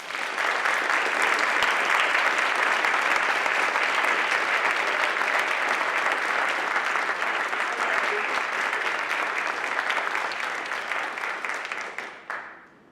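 Sustained audience applause welcoming a speaker at a Radcliffe Institute lecture, a dense, steady wash of clapping from a large crowd that holds for about twelve seconds and then fades out.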